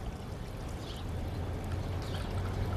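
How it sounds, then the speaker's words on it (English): A drink is strained and poured over ice cubes and a lime in a glass, a continuous close splashing pour lasting a few seconds with steady watery rushing. "then we just strain it out and pour it"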